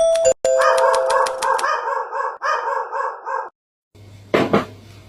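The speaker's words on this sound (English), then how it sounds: "He's some kind of mountain dog or something." A large mountain-type dog barks in a rapid run of loud, close, sharp woofs, pauses briefly, then gives another short burst followed by a louder bark near the end.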